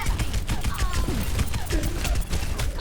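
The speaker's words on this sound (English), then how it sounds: "Rocket barrage incoming." A rocket barrage ultimate in a hero shooter fires as a dense, continuous volley of rapid blasts and crackling impacts that keeps up at high loudness throughout, with faint game chatter mixed in.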